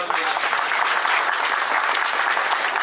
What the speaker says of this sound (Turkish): Ya alkış yapın ya